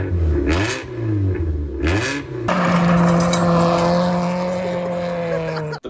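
A Hyundai with its muffler deleted and Porsche Macan exhaust tips fitted gives two sharp rising revs, then settles into a loud, steady raspy drone with a strong low tone, close and alone.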